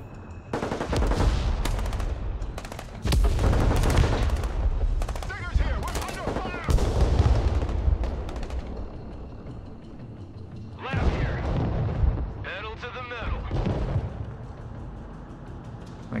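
Bushmaster autocannon fire in the military strategy video game Broken Arrow, with repeated loud bursts and booming shots over about sixteen seconds, mixed with battle noise and brief voices.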